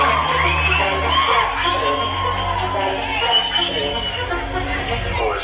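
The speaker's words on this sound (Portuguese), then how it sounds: "cadê os aplausos para Tainá Camille?" A school Beleza Negra pageant audience whoops, yells and cheers for a contestant. The noise is loud and continuous from a dense crowd and runs under a voice talking over a microphone.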